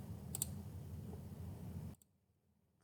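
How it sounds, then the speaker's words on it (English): A computer mouse double click while working in SketchUp, two quick faint clicks close together early on over a low steady background hum that cuts out near the end. "And I just double click."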